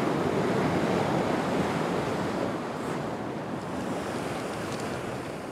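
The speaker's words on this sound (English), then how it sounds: "It's a fantastic walk along the causeway with the sea crashing in on both sides" Sea waves crash and surge against a stone causeway in Cádiz, a continuous loud roar of surf mixed with wind noise, steady throughout with no voices.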